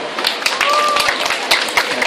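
An outdoor crowd at a street talk on national security applauds a speaker as he is introduced, producing dense, continuous clapping with chatter underneath.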